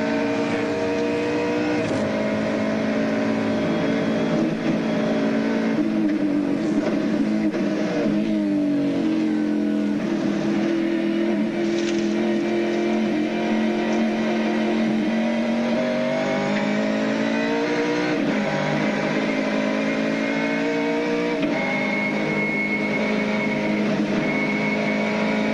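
Shell-sponsored Ford touring car engine recorded onboard during a lap at Lakeside in 1998, loud and continuous, its revs climbing and dropping through gear changes and off-throttle lifts with no talk over it.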